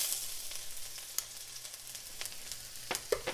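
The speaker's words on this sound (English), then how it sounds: "For momos chutney, heat the oil. Then first of all add the garlic." Garlic sizzles in hot oil for momo chutney, a soft, steady crackling fry with scattered sharper pops throughout, close and fairly quiet.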